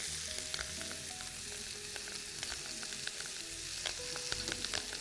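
Flour cooking in butter in a pan, a steady dense sizzle and crackle running throughout with faint stirring scrapes, close and continuous with no talking.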